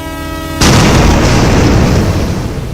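A train at an unmanned railway crossing gives a brief steady horn tone, then a sudden loud, roaring burst of noise takes over and slowly fades.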